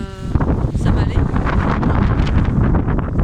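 A strong gust of wind buffets the microphone outdoors on a walking path, giving a loud, continuous rumbling roar, with a voice briefly audible at the start.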